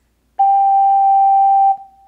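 Ocarina sounding a single sustained G, held steady for over a second with a clean pure tone and faint overtones, then cut off with a short fading tail; no voices.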